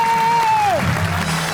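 Applause from a studio audience on a Pakistani comedy talk show, a dense patter of clapping across the whole moment with a voice speaking over the start.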